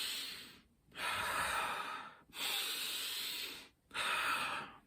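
Deep, forceful breathing of a Kundalini breathing exercise: three long, loud, close breaths with short pauses between them and no talking.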